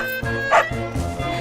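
A dog barks and yips several times in quick succession, close and fairly loud, with a short high whimpering yelp in the middle.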